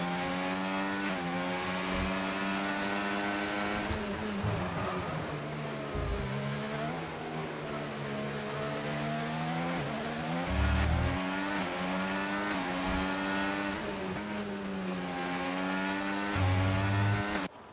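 Racing car engines in the PSS World Cars video game, a sustained, loud, high-revving drone with shifting pitch as cars accelerate and lift, with occasional low thumps, and no talking.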